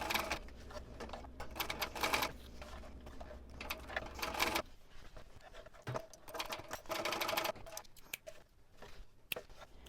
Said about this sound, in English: I'm going to sew across each end with the recommended seam allowance.